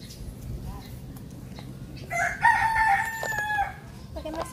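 Rooster crowing near a farmyard with chickens, one drawn-out crow rising in the middle over steady low background noise and rustle.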